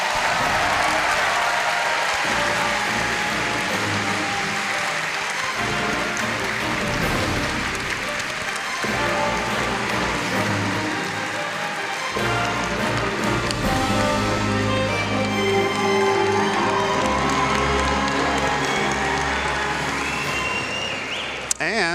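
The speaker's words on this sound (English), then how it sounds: "let's have one more round of applause for our panelists." Audience at a Final Fantasy XIV fan festival in Las Vegas applauding and cheering continuously, a dense roar of clapping and shouts with music underneath.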